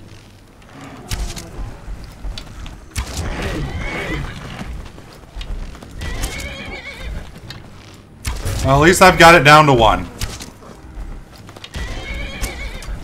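A horse neighs and whinnies in the video game Skyrim, its hooves clopping amid combat noise, with one long, loud whinny near the end and someone talking over parts of it.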